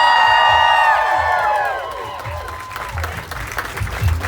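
Festival crowd applauding and cheering for the band members at Voodoo Fest, a steady wash of clapping and whoops that swells toward the end.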